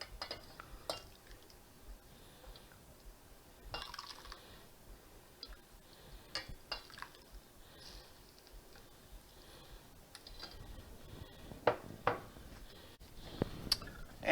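Egg drop soup being ladled into a bowl, heard as scattered faint clinks and ticks of a ladle against the pot and bowl. Quiet and close, with soft liquid pours between the taps and no voices.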